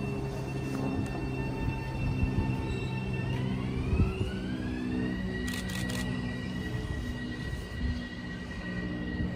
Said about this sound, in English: This northbound local is basically doing the complete opposite run to the train we saw before